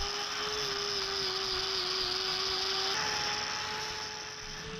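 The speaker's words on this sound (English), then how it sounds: "The wind noise you can hear on the microphone isn't from the wind and the atmosphere around about us, it's actually coming out of the vents on the grinder." A grinder trims a cow's dew claw, its motor giving a steady high whine with a rushing, wind-like hiss from the vents, close and continuous with no talking.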